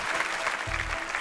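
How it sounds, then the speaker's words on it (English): A game show studio audience claps in a brief, faint, steady patter of applause with no talk over it. "We'll applaud that."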